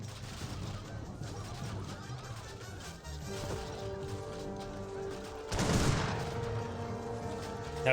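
Gunfire from an Age of Empires 3 battle cutting down a villager, faint crackling volleys over a busy low battle din, with a louder burst of shots partway through.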